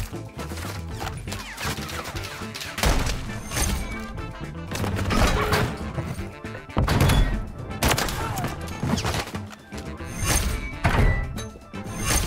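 Heavy explosive thuds and bursts from a Modern Warfare 3 firefight, including a grenade blast, recur loudly over several seconds with dense gunfire-like crashes between them.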